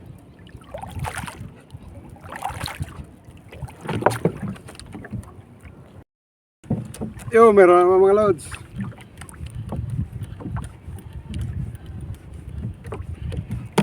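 Paddle strokes from a small wooden bangka on open water come in a few splashing pulses, with wind buffeting the microphone and someone speaking briefly.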